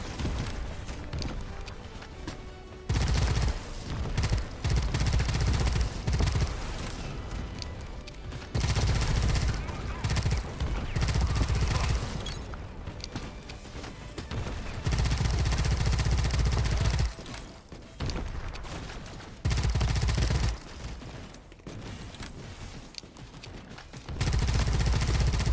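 Turret gunfire in the game Pax Autocratica comes in heavy, booming bursts of several seconds each. The sustained rattling volleys are broken by short quieter gaps, and a voice talks over part of it.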